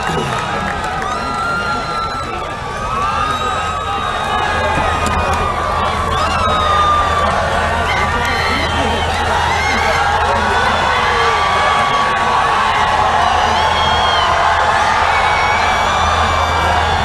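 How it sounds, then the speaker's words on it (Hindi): A large crowd at an education and skills orientation event for the PTI party chairman cheers, whoops and claps continuously, a dense sustained roar with shouting that builds after the first few seconds and stays loud throughout. "आपकी भरपूर तालियों में दावत दूंगा चेयरमैन पीआईटीवी साबिक वज़ीर आज़म इमरान खान।"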